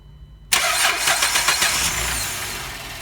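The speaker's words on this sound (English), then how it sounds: "Okay, start the engine." A car engine cranks and catches abruptly, roaring up loudly before settling into a steady idle close by.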